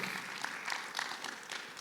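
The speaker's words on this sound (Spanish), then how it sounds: "Dale un aplauso grandotote al Dios todopoderoso." Congregation applauding in a church service, a crowd of many hands clapping in a loose, irregular patter that stays moderately loud and steady.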